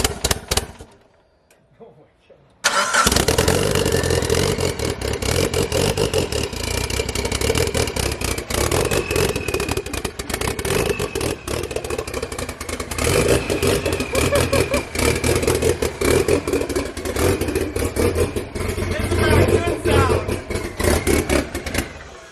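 After a short quiet opening, a car engine fitted with an FP Red turbo fires up on its first start and revs loudly and roughly, with choppy, uneven pulses. People talk over it.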